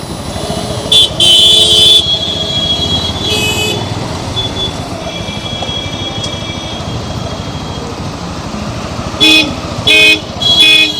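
Evening traffic jam on a city road near the Biswa Bangla gate during Vishwakarma Puja, a steady engine rumble under repeated short car and motorbike horn toots, bunched at the start and again near the end.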